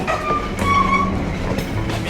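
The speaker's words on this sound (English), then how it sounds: "with darkness falling, the train picks up speed" A train speeding along the tracks in Myanmar at nightfall, a loud, continuous rumble and rattle of the cars with faint metallic squeals from the wheels, and no talk.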